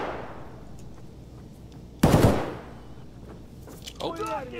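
Single loud Mosin rifle shot in Escape from Tarkov on the Factory map, a sharp close blast in the middle, with faint background noise and brief game sounds around it.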